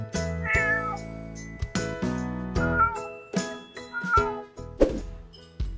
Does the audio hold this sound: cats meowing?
yes